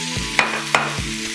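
Ginger, garlic and a spoonful of butter frying in a pan give a steady close sizzle, broken by two sharp clinks of a spoon against the pan and low scraping stirs.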